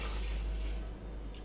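Measured water poured into a cooking pot while preparing a lunch-box dish, a steady continuous splashing pour that runs alone throughout and eases off slightly near the end.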